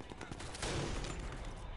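Unsuppressed rifle shots using regular ammunition in the Sniper Elite 4 video game, a loud burst of gunfire booming over a dense, noisy in-game background.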